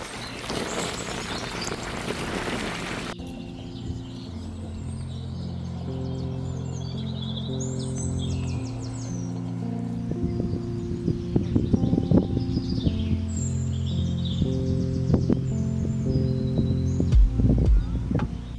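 Wild birds sing outdoors on a sunny spring migration day in May, several distant chirps and trills overlapping after a brief burst of broadband noise, with light rustling and a soft low hum underneath.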